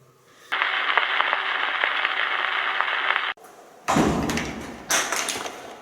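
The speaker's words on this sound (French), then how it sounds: "Est-ce que tu peux de nouveau faire claquer cette porte?" A door being slammed in a home during a paranormal investigation, heard as a few hard thuds and bangs after a sustained hum, loud and close with no talk.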